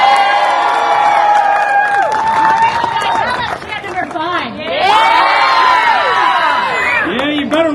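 A loud festival crowd at the Colorado Renaissance Festival cheers and whoops, with high excited shouts and children's voices rising and falling in waves and a brief dip midway.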